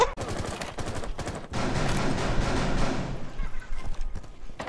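Shotgun blasts in the Rainbow Six Siege video game, several loud booming shots close together over ongoing game noise, with a voice talking briefly.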